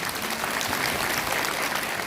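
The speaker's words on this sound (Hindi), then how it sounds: "एक जोरदार ताली मेरे लिए आप बजा सकते हैं" Loud, dense applause from an audience of women and girls at a Women's Day event in Raigarh, Chhattisgarh, a steady wash of clapping without pause.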